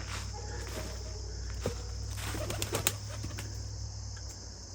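Pigeons and quail kept together in an outdoor pen: soft flapping wings and light shuffling steps close by, with faint cooing, over a steady low hum.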